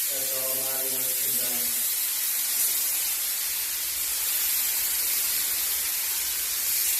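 A spray gun lays silver coats on a car door, a steady broadband hiss running the whole time, close and even, with a brief low tonal hum early on under it.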